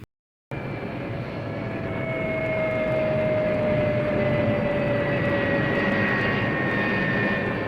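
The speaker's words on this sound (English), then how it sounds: "Shut up, compressor." An air compressor drives an airbrush for painting a 1/48 Tamiya F-4B Phantom model kit. It kicks in after a half-second of silence and then runs as a loud, steady, droning hum with a slowly falling whine.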